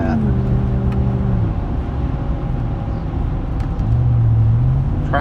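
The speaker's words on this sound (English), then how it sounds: "Let's hear that exhaust again." A 2013 Chevrolet Silverado Z71 5.3 pickup's engine rumbles steadily with a deep exhaust note, rising twice in pitch as it revs, heard from close by.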